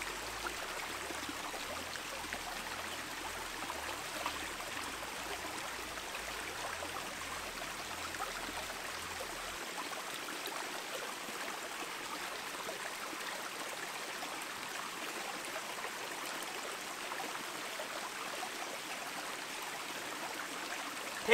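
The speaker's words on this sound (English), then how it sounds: "this is like a little creek, dude" A small forest creek runs with a quiet, continuous trickling hiss, soft and steady throughout, with no voices.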